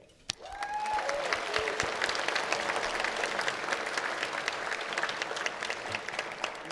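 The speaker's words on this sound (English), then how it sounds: "please give yourselves a round of applause for the outstanding work that has come out of Canada this year" Audience applause at the Canadian Society of Cinematographers awards ceremony: a full room of steady, dense clapping swells up quickly and holds loud and even throughout, with no voices over it.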